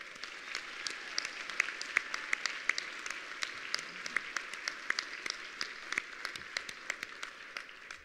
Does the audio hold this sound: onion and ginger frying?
no